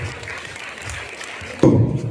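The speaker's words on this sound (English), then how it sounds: "Please give a huge round of applause as he enters." An audience at a school Independence Day celebration applauds in a steady, moderate patter, with a louder, fuller burst of clapping near the end.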